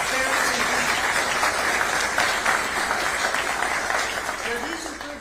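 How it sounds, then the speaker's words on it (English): Audience applause at a Florida state attorney's press event, a steady wash of many people clapping for several seconds, fading slightly toward the end. "You should give yourself a round of applause."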